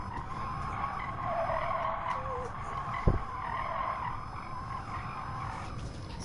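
Tires skid and squeal under hard braking in the racing game GT Sport, a sustained screech over steady engine drone, with a brief thump midway.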